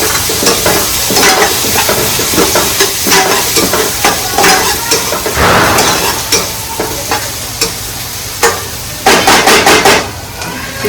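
Ginger-chili paste hits hot oil for a Gujarati dal, setting off a loud, steady frying sizzle punctuated by repeated spoon scrapes and taps against the pan.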